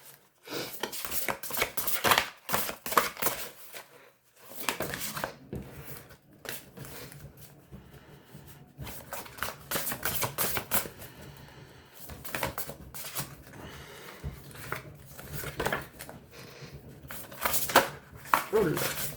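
Tarot cards being shuffled by hand in repeated quick riffling and sliding bursts, close and moderately loud, with brief pauses between shuffles and a voice faintly present at times.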